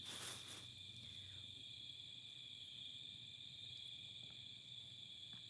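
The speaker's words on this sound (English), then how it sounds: "you can just listen to the crickets" Crickets chirping outdoors in autumn, a faint, steady high trill running continuously through the quiet background, with no talk.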